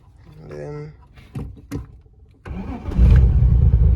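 A BMW E36 fitted with an aftermarket push-button start cranks and catches: a short starter whir, then the engine fires and settles into a loud, steady idle. Before it, a voice talks over a few clicks.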